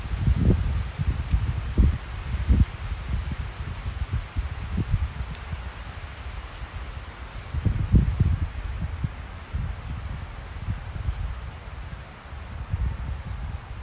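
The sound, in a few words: wind rustling tree leaves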